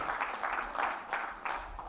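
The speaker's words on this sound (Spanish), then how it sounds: "Dele palmas al Señor, dele gracias." Church congregation clapping hands together, a moderately faint, rhythmic run of claps in pulses throughout, with no talk over it.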